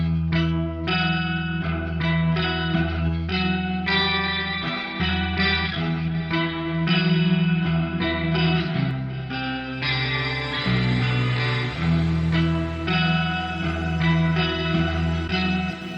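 Clean electric guitar through the Neural DSP Archetype Gojira plugin with delay and reverb switched off, a dry strummed and picked passage played continuously, close and at a steady loud level, with no voices.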